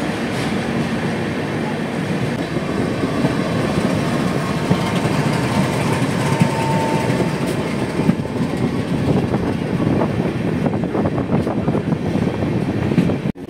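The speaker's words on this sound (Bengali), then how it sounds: "রাত 9:24 ট্রেন নিউ আলিপুরদুয়ার স্টেশন ছেড়ে তার পরবর্তী গন্তব্য নিউ কুচবিহার" The Brahmaputra Mail passenger train, number 15658, departs New Alipurduar station at night, a loud continuous rumble of rolling coaches with rhythmic clickety-clack over the rail joints building steadily.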